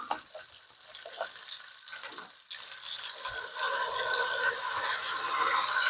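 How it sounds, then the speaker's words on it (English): Chicken broth is poured into a pot of potatoes for an escarole and beans dish. A soft liquid pour starts quietly, then becomes a steadier, brighter gushing splash as the broth hits the hot pot. "I'm going to pour in some chicken broth."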